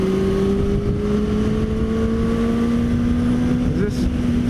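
Benelli 600i ABS motorcycle riding on an open highway: a sustained engine whine with steady rising tones over loud wind rush, close and continuous, with no talk.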